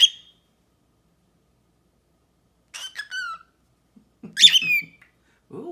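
A pet bird gives a few sharp, high squeaky calls in short bursts, one louder screech imitating a hawk, separated by silence, close to the microphone.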